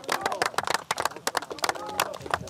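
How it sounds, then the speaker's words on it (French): Teammates clapping for an injured player as he leaves the field: a dense patter of close applause from a small group, with voices murmuring underneath. "Les applaudissements ne sont pas pour le médecin, mais pour le blessé ovationné par ses coéquipiers"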